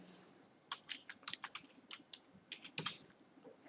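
Someone types on a computer keyboard while setting up Notepad on a PC, producing about a dozen quick, light key clicks in uneven bursts, faint and close with no talking over them.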